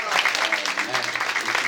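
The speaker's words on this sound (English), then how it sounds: "Please give yourself a round of applause." Banquet audience clapping together, a steady dense patter of hands sustained throughout, with voices mixed in underneath.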